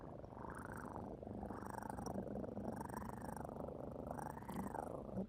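A person imitates a cat purring with a low, rumbling, rhythmic throat sound that rises and falls in about five slow breath cycles. It is close, soft and continuous throughout.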